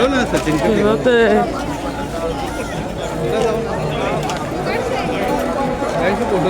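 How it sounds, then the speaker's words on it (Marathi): Dense crowd of pilgrims at the Chandrabhaga river in Pandharpur during Ashadhi Ekadashi, a loud continuous babble of many voices close by, with someone talking over it. "चंद्रभागा नदी बघा काय गर्दी फुल आहे"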